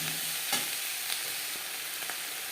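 Onions frying in a pan with turmeric powder and salt added, a steady close sizzle broken by a few soft scrapes and stirring knocks.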